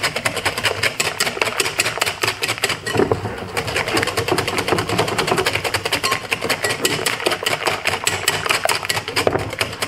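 Cream is whipped for peach melba French toast, likely with an electric mixer. A fast, continuous rattling whir runs steadily close by, with a brief louder surge partway through.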